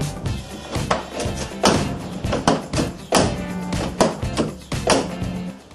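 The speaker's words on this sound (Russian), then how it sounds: "Как видите, дверь закрывается хорошо." A ZAZ Tavria car door, fitted with a newly replaced door seal, is shut again and again, giving roughly seven dull, close thuds at irregular intervals with nobody speaking.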